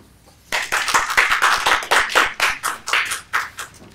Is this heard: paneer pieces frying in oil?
no